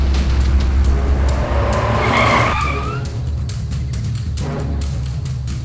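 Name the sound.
car being driven, tires skidding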